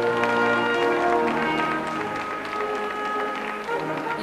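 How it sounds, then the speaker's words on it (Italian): An audience applauds at a children's school performance, a steady wash of clapping that runs the whole time, with some tonal sound underneath. "Applauso."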